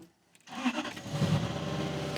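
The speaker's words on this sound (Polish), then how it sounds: "trzeba odpalić motor" A Cadillac engine cranks and catches, then settles into a steady running rumble close by after a moment of near silence.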